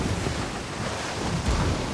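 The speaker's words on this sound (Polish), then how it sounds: "tu akurat rozumiem ten wiatr, bo jest taki mały przesmyk" Wind gusting across open sea in the pirate game Skull & Bones, a dense, steady roar of air and surf with a slight swell toward the end, close and unbroken, no voices.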